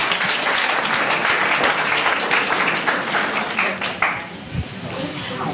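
Audience applause fills a student government candidate debate hall, a dense, steady clapping that holds for several seconds, then thins and fades near the end, with a few voices mixed in.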